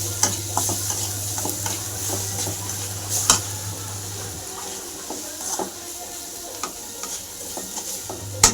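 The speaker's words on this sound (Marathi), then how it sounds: "मसाले तळून झाले चांगले" Onion, tomato and spices fry and get stirred in a pan for a Marathi-style garlic fenugreek gravy, with a steady close sizzle and repeated scraping stirs throughout.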